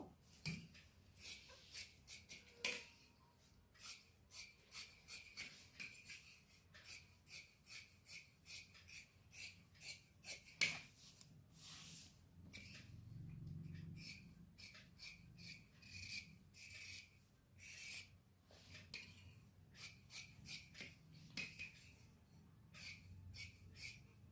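Scissors snipping through blouse fabric to cut the front piece, a quiet series of short rasping cuts in an irregular rhythm, with a few pauses and a soft shuffling of cloth.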